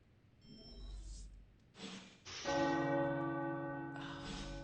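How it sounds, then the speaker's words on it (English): Tower bells ring in the abbey of the video game Marvel's Midnight Suns, a sustained, layered chime entering partway through after a few soft breaths and rustles, ringing loud and steady to the end. "The tower bells are ringing."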